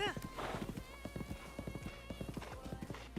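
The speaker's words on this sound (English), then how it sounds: "All right, calm down, horsey." Horse in the video game Zelda Breath of the Wild, a steady run of close, crisp hoof clip-clops with a neigh near the start and a faint voice underneath.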